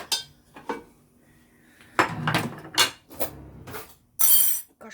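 A spoon clatters against pots, lids and dishes in a home kitchen, a series of sharp metallic clinks and knocks in irregular bursts, close and fairly loud, with no talking.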